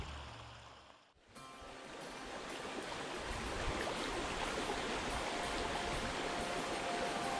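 A small river stream flows in a steady, close rush of water after a short, quieter opening moment. The sound is continuous, with no speech.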